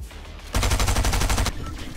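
Gunfire in the video game Fortnite comes as a rapid, loud burst of about a dozen automatic shots lasting roughly a second, with quieter game ambience before and after.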